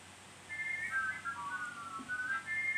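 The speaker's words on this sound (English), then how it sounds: "When Thomas arrived at Ellsworth Station, as he tooted his wonky whistle," Wonky whistle of a Thomas the Tank Engine toy train, a warbling, wavering tone rising and falling for a couple of seconds, fairly quiet and alone.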